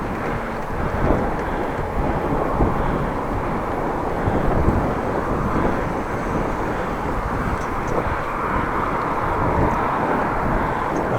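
Wind roaring across a microphone while cycling on a Dutch bike along a quiet road: a loud, steady, rumbling buffet that lasts throughout, with no talking.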